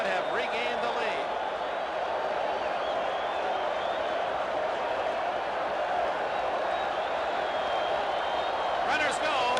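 A Busch Stadium baseball crowd at the 1982 World Series Game 7 between the Brewers and Cardinals roars steadily and broadly throughout, a sustained cheer with no clear individual voices standing out.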